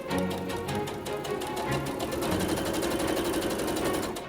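A sewing machine stitches a seam on a Regency-style gown, running in a steady, close, continuous whir with a fast mechanical rhythm and no voices.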